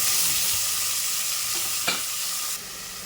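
Tomato pieces fry in a pan with onions for tomato rice, giving a dense, even sizzle close by. A single sharp scrape of a stirring spoon cuts in briefly partway through.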